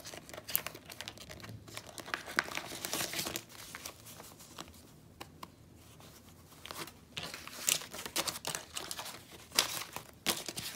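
Cash and paper envelopes are handled for savings cash stuffing, with soft crinkling and rustling of bills and envelope paper in irregular bursts, close and quiet, with no talking.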